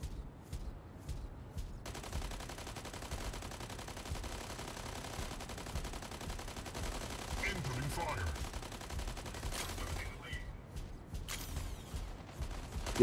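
Gunfire in a mech combat game such as Armored Core sounds as a steady mechanical rattle of rapid shots under a droning background, with a few sharper clanks near the end.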